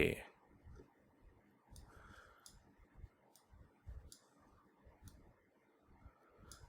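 A computer mouse clicks several times during a Figma design session, short crisp ticks spaced irregularly and faint, alongside quiet talk.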